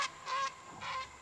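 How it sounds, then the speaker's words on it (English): A goose, angered near a fishing spot on a windy day, gives two loud nasal honks a moment apart, close by and alone. "Uh-oh, I angered one of the birds."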